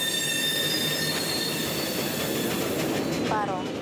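Freight train wagons roll along the rails with a loud continuous rumble, high metallic wheel squeals ringing over it, close by.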